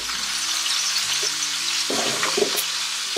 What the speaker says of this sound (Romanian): o să pun puțin ulei, 2-3 linguri de ulei și punem la călit